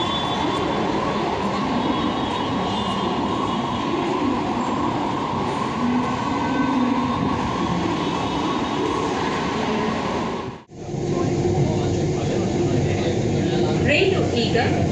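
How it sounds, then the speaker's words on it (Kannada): A Bengaluru metro train running, with a loud steady rumble and roar of the carriage in motion and a brief dip in the noise, while a voice makes an onboard passenger announcement over it. "ರೈಲು ಈಗ ಚಿಕ್ಕಬಿದರಕಲ್ಲುಗೆ ತಲುಪಲಿದೆ."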